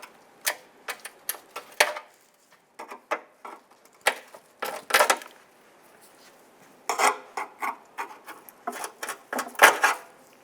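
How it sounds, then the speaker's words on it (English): Trim tool prying wiring-harness push buttons from the front bumper of a 2002-2008 Dodge Ram 1500: clusters of close, dry plastic clicks, pops and scrapes in irregular bursts separated by short pauses, without talk. "We can use a trim tool, go on the back side, and we're just going to pop these buttons out."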